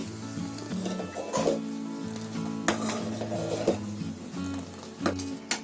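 A spoon scrapes and clinks against a pot of makhana milk kheer in irregular strokes over a low steady hum, with a gentle simmering hiss underneath.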